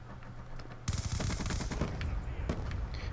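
Close machine gun fire from Black Ops 2 on Wii U cuts in suddenly as a dense, continuous spray of rounds, with another sharp burst near the end.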